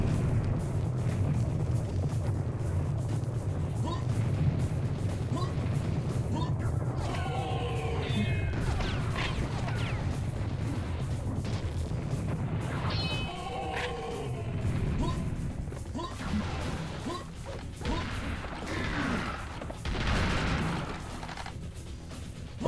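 Heavy cannon blasts and crashing impacts ring out amid chaotic combat in the shooter Serious Sam HD, repeated booms and smashes layered over constant game noise, with scattered bursts of gunfire.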